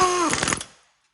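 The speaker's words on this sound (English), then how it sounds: "Now we'll tighten up the axle nut." A power tool gives a short, loud burst while tightening the axle nut on a Toyota Prius during a lower ball joint replacement, then quickly winds down to silence.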